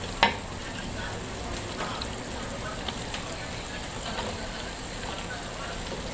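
Mixed vegetables, including yardlong beans and okra, being stirred together in a frying pan, a steady low sizzle with soft scraping and one sharp clink near the start.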